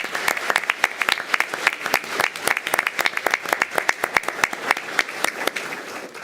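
Scattered applause from a small group at a school board meeting, with individual hand claps clearly distinct and irregularly spaced, fairly close and steady throughout.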